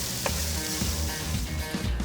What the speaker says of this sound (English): is now frying the beef off for her pie